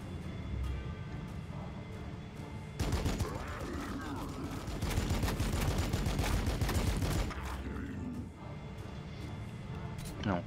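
Dense bursts of gunfire from a Warhammer 40K Battlesector battle between the Sororitas and Orks, rapid volleys crackling steadily through the middle stretch with quieter moments before and after, heard beneath talk.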